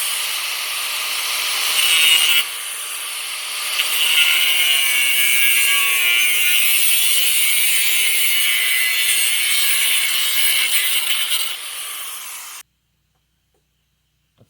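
A power tool grinds and rasps steadily through a piece of metal for a rusted lawn mower deck repair, a loud continuous cut lasting about twelve seconds before stopping abruptly.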